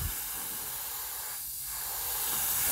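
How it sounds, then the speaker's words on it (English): An airbrush sprays chartreuse paint onto a shad-style crankbait fishing lure, giving a steady, close hiss that runs the whole time with only a slight dip midway and no talking. "I'm gonna let some of this spray off down to the side of it"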